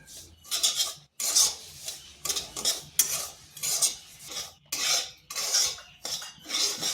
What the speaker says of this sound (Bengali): সুজিটাকে হালকা একটু ভেজে নিচ্ছি, তাতে সুজির কাঁচা গন্ধটা চলে যাবে।